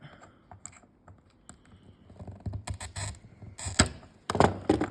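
A handheld glass cutter scores a small leftover nib off a piece of stained glass being shaped for copper foiling, giving close, scratchy bursts mixed with light clicks and taps, with no speech.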